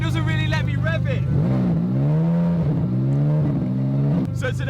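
A Lamborghini SVJ that does not run right struggles to rev, its engine rising and sagging unevenly in a few strained pulls, loud and close with no talk.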